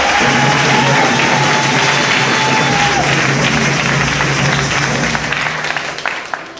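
A church congregation applauding and cheering in acclamation during a French-language service, a loud, dense roar of clapping and crowd voices with a steady hum beneath, easing slightly toward the end.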